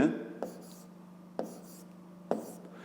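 A pen writing on paper during a fifth-grade maths exercise, with soft continuous scratching strokes and three sharper taps as the pen touches down, close and quiet with no speech.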